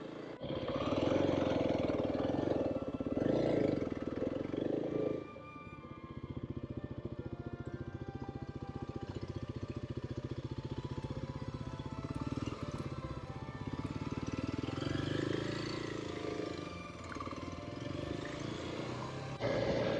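A Kawasaki KLX300 dual sport motorcycle is ridden on a forest road, its engine a steady drone under wind, swelling and easing with the throttle.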